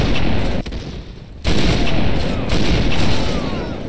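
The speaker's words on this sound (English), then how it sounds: "The Halo Sniper sound, like, reverberates for so long." A Halo sniper rifle fires in the video game MW2, a loud booming shot with a long reverberating tail, followed by a second heavy blast.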